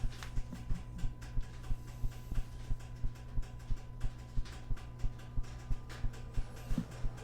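A steady low mechanical hum with a regular soft thumping pulse as the fans of a Quadra-Fire CB1200i pellet stove start up, no pellets dropping, close by and fairly quiet, with no talking.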